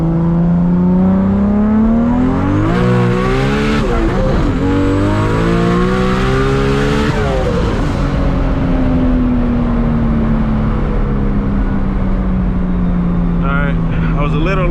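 A 1000+ horsepower MK4 Toyota Supra pulls hard through the gears, its loud, close engine roaring and rising in pitch, dropping at a shift and climbing again before settling into a steady high drone.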